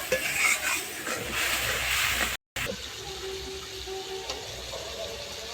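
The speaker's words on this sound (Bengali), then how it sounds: "মশলাটা খুব সুন্দরভাবে কষে নেব।" Ground cumin paste loosened with a little water fries and is stirred in oil in a pan for fish curry, giving a close, steady sizzling hiss with soft scraping stirs and one brief dropout midway.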